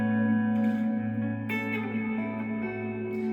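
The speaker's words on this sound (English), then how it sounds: "It kind of sounds like a lush reverb that dances a little bit." An electric guitar played through a BOSS ME-90 multi-effects unit with a lush modulated reverb rings out sustained chords that shimmer and swell, with new strums near the start and middle, alone and without talking.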